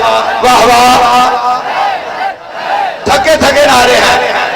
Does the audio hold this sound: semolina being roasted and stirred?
no